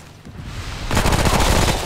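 Guns open fire in Remnant: From the Ashes, a dense loud burst of rapid shots suddenly erupting after a quieter moment and roaring close for about a second.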